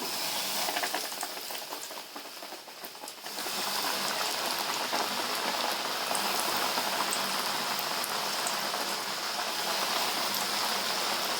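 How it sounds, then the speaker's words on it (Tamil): Chicken pieces deep-frying in hot smoking oil, a dense steady sizzle and crackle that swells louder after a softer first few seconds, then holds a continuous close hiss throughout. "சிக்கன் அப்படியே ஒன்று ஒன்றா இறக்கிடுவோம்"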